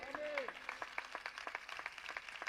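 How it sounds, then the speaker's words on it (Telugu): A church congregation clapping during a sermon, a steady run of many quick claps at moderate distance, with a voice audible over them at the start. "ప్రభు సమాజానికి ఇస్తున్న సందేశాన్ని బట్టి మీ సంతోషాన్ని చప్పట్ల ద్వారా తెలియపరచండి"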